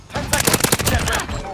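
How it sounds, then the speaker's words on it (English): A rapid burst of ISO Hemlock assault rifle fire from Modern Warfare 2, a dense string of loud, close shots lasting about a second. "The ISO Hemlock that was added to Modern Warfare 2 is the assault rifle version of this gun"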